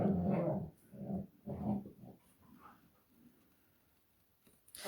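Dogs in a studio give several close, low growls in short bursts over the first two seconds, then fainter rumbles and shuffling in a quiet room.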